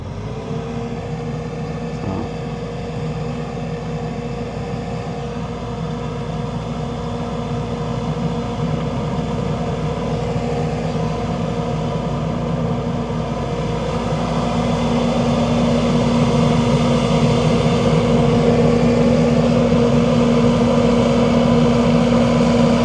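Bobcat MaxControl skid steer loader driving away, its diesel engine humming steadily with a rising whine and building loudness, a continuous mechanical drone without speech.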